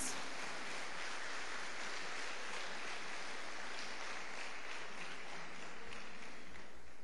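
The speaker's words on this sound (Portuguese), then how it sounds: "Você pode aplaudir Jesus?" A church congregation applauds steadily, a dense continuous wash of clapping at moderate level throughout with no voices standing out.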